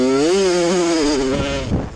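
A Suzuki RM105 dirt bike engine revs hard with a strongly rising and wavering pitch, then bogs into rough, gritty churning as the rear wheel spins in place, loud and close.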